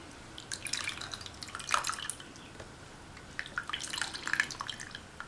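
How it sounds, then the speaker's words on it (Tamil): Strained tamarind soaking water drips and trickles into a pot of tomato rasam in a home kitchen, with soft, irregular splashes and patters that come and go, faint and close, with no talking. "அந்த தண்ணியை வடிகட்டி இதில் சேர்த்துக்கலாம்."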